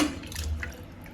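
Goat trotters being rinsed in a sink of water, giving a soft continuous splash and trickle with faint drips, close and fairly quiet, with no talking.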